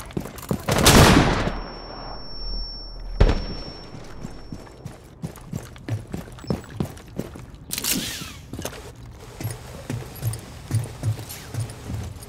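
Gunfire in Rainbow Six Siege plays during a team deathmatch on the Club map: a couple of loud, sharp shots early, then a run of rapid, fainter bursts and footsteps-like clatter.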